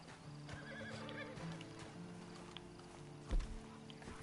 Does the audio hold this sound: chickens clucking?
no